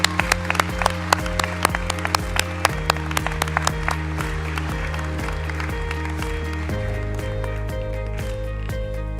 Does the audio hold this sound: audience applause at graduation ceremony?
yes